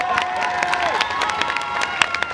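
Conference audience at the Art to Play 2016 convention clapping and cheering, a lively burst of crowd noise with sharp claps and shouts; a voice briefly carries over the top.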